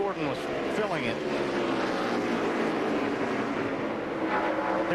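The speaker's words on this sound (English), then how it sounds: "Listen to those engines." Stock car engines roar in a dense, sustained drone during the 2004 Bristol Sharpie 500 NASCAR race, with pitch sweeps as cars pass, while commentators talk over them.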